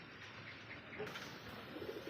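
Pigeons in a loft giving a few soft, low coos, faint and fairly distant, over a quiet, steady background hiss with no talking.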